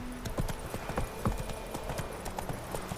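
Horse hooves clip-clop at a steady trotting pace in The Witcher 3, a close run of sharp knocks over quiet background, with no talking.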